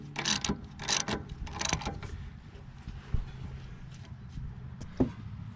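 Ratcheting clicks from tightening a 17mm nut on car suspension during a strut and control arm replacement, three bursts of rapid ratchet clicking early on, then a few isolated metallic taps and clanks close by.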